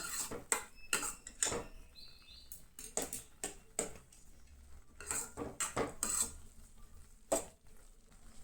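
A spoon scrapes and clinks against a metal pot while stirring Goan soji dessert ingredients, a series of sharp, irregular knocks and scrapes close by with quiet gaps between.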